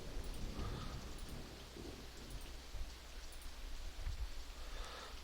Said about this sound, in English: I wish I could cancel this rain right now